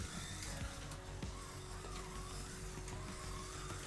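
A BRM 1/24 scale Ford Escort Mk1 slot car, freshly tuned with trued tyres and oiled, lapping a track with a steady faint motor whine and light rattling ticks.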